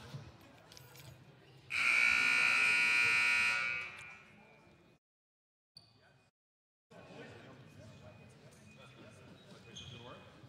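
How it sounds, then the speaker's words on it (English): A loud, harsh buzzer blares for about two seconds at a men's basketball game amid faint crowd noise and a bouncing ball, then the noise drops out briefly. "you're about to hear the buzzer right now"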